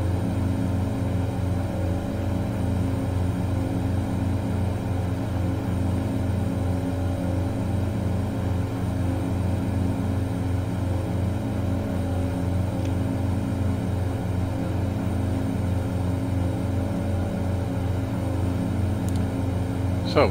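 A DHC-6-300 Twin Otter on approach in MSFS2020 drones steadily from its twin propeller engines, a loud, even, humming throb with no pause.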